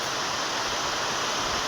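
Heavy rain pours down in a dense, steady hiss with no variation or voices.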